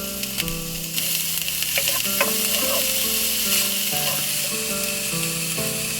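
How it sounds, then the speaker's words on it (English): Mushrooms for a plant-based vegetable gyoza filling sizzle steadily in a hot pan, with a few scrapes and stirring clinks over the continuous frying hiss. "Now we'll add the mushrooms and allow them to cook for about a minute."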